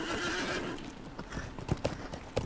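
Horse hooves clip-clop and a horse whinnies in the video game LOTRO, with a steady hoofbeat fading into a few sharper, louder hoof strikes near the end, no talking.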